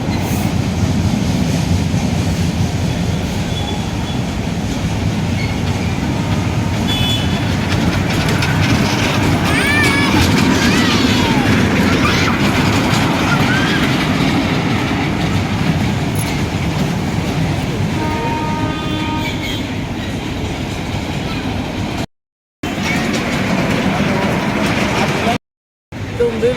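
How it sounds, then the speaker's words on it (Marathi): A small children's ride-on train in a garden rumbles along steadily with a continuous clattering drone, voices chattering faintly in the background. "एक अशी ट्रेन आहे मुलांना बसण्यासाठी"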